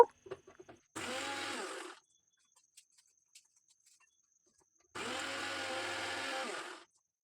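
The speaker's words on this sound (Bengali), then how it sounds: "একটুখানি মিক্সিতে টোস্ট বিস্কিট গুঁড়ো করব" A kitchen mixer grinder pulverizing toast biscuits into crumbs runs in two loud, whirring bursts of about a second and two seconds, separated by a quiet pause with faint clinks.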